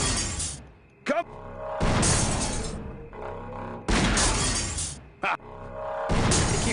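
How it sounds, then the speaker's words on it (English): Glass shatters repeatedly in the adventure game Grim Fandango Remastered, several loud bright crashes in succession with short gaps between them and some quieter game sound underneath. "He keeps showing animation of the glass breaking."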